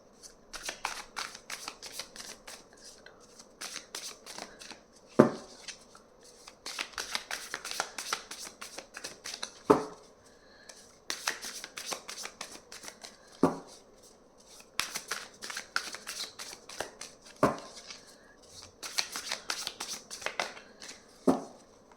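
Tarot cards are shuffled by hand in a quiet room, close, crisp riffling bursts repeated in rounds with sharp taps and knocks between them, roughly every few seconds, with no talking.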